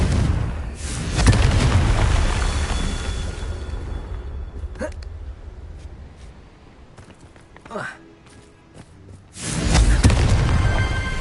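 Explosive Confringo spell blasts in the video game Hogwarts Legacy: several loud booming bursts spaced a few seconds apart, with a spoken voice and game ambience between them.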